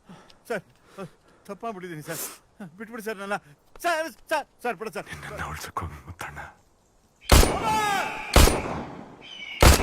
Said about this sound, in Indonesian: Scene film ini menunjukkan Syam menembak ke arah Kumar.